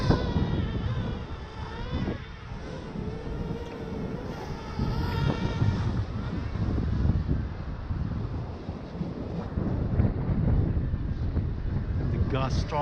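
Strong wind gusts buffeting a DJI Mavic Air drone flying in sport mode with an Osmo Pocket camera mounted on top, a continuous loud roaring rush that swells and surges throughout.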